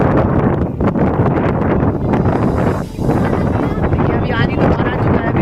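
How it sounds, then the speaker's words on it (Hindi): Strong outdoor wind roars and buffets the microphone in a loud, constant rush, with people talking over it. "इधर बहुत ही तेज हवा चल रहा है"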